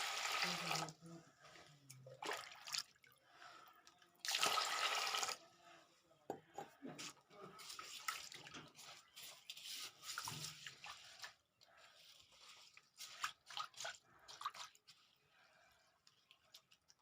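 Sella rice is washed in water in a kitchen, with intermittent splashing and swishing bursts of running water and clinks, fairly quiet and uneven in rhythm.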